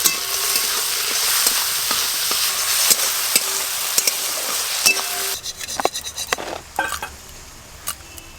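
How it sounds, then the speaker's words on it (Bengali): Small shrimp sizzle steadily in hot oil, a continuous near frying hiss, followed by a few sharp clinks of a utensil against the pan. "ওই একই তেলে চিংড়ি মাছগুলো ভেজে নেব।"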